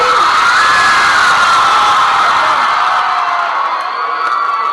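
A large crowd of girls screams and cheers loudly and continuously at a Bollywood film promotion event, sustained high-pitched shrieks filling the space before easing slightly toward the end.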